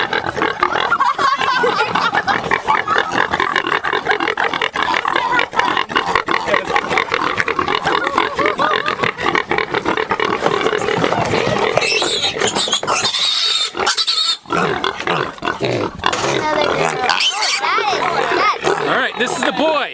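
Red Wattle piglets squeal and oink on a ranch, a busy, loud stretch of animal cries with people talking throughout.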